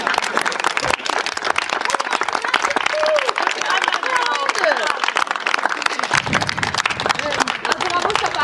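An audience at a village event in Freilingen keeps up loud, continuous applause, with crowd voices and chatter mixed into the clapping throughout.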